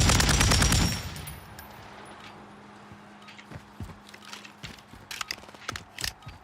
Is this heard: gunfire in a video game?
yes